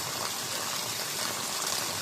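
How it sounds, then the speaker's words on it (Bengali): Rainwater drains from cleared house gutters during a rain shower in Dubai, a steady, continuous rushing and splashing of water close by with no pauses. "এখন আবার বৃষ্টি চলে আসছে। এই বাড়িটা গাটার গুলা ক্লিয়ার করতেছে পানিগুলা চলে যাওয়ার জন্য।"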